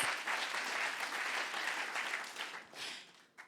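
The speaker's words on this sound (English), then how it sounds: "But yeah, you can clap for that." A crowd at an award show at the Reeperbahn Festival 2021 gives dense, continuous applause. It starts loud and steady, then thins and fades toward the end with a last brief swell.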